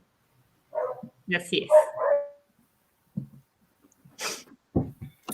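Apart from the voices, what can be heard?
small pet dogs barking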